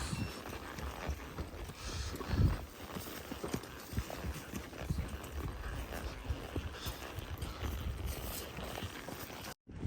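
Horses carry riders through knee-high fall grass, hooves clip-clopping in a steady, continuous walking rhythm close by, with rustling and movement noise throughout and a brief drop near the end.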